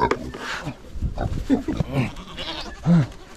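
Goats on a farm bleat and grunt in short, throaty calls, several overlapping bursts up close, with one louder bleat near the end and some indistinct voices mixed in.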